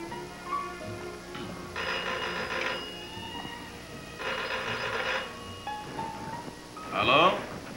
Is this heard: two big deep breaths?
no